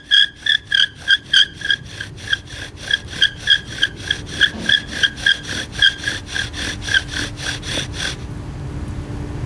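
Rhythmic rasping strokes of a bow drill grinding against California buckeye wood, steady back-and-forth friction that starts crisp and blurs into a continuous scrape.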